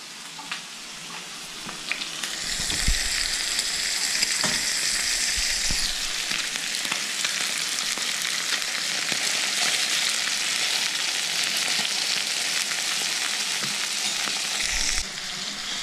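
Pork chops frying in a pan of grease give off a steady, close sizzle that swells after a couple of seconds and holds throughout, with a few soft knocks and stirring clatters underneath and no talking.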